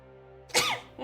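A single sharp human sneeze bursts out loud and close after a moment of near silence, followed by a faint breathy tail.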